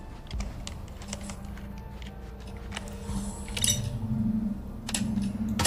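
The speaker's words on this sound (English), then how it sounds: "There's the locking sound." Connector locking into place in the video game Aethus, heard as a few sharp mechanical clicks and a brief clunk over a steady low game hum, with no talking.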